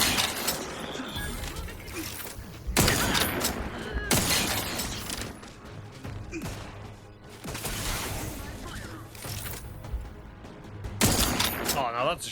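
Gunfire in The Outer Worlds 2, several sharp bursts with shattering impacts spaced across the scene amid game ambience, with brief talk in between.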